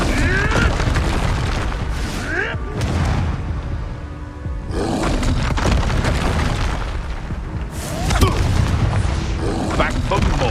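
A Confringo blasting spell from the video game Hogwarts Legacy fires in repeated heavy booming blasts with roaring bursts, amid chaotic combat noise and game voices.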